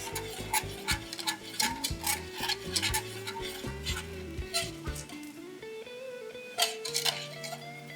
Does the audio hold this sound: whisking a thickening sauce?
yes